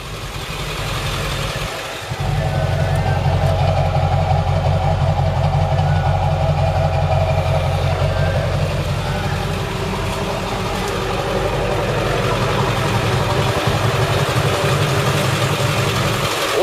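A white 2002 Ford F-350 Lariat crew cab with a V8 Power Stroke diesel idles steadily close by, a low, even rumble with a faint knocking texture that runs the whole time after a brief dip near the start.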